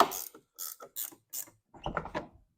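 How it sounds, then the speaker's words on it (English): A ratchet tightens carriage bolts on a Jeep XJ roof top tent mount, giving several quick close bursts of clicking followed by a longer run of ratcheting. "I say tighten the carriage bolts first."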